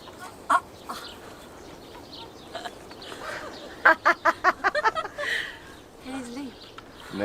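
A chicken clucks in short, rapid bursts, close to the listener, with a quick run of sharp clucks midway and quieter ones scattered around it, while a person talks softly nearby.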